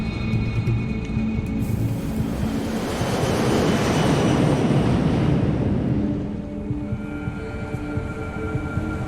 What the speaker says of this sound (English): Despite the winter conditions, the takeoff is routine.